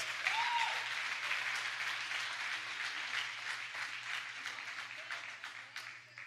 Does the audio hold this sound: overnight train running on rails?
no